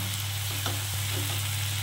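Taro stolons (kochur lati), already parboiled, fry steadily in a pan with a constant close sizzle and occasional stirring, no voices.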